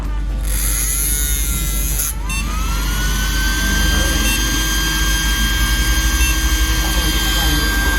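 A radio-controlled model car, switched on for a wheel-alignment setup, gives off a continuous electric motor and servo whine. After a brief dip, its tone rises in pitch and then holds steady and fairly loud.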